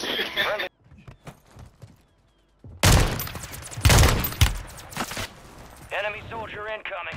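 Gunfire in the video game Warzone: a few bursts of sharp shots, fairly loud and close, separated by quieter gaps, with a voice talking over parts of it.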